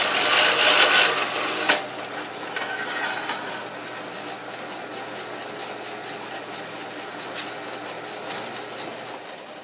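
A vertical band saw cutting through 4-inch diameter tubing: a brighter hiss for the first couple of seconds, then a steady, quieter machine whir with faint rhythmic blade texture continuing alone.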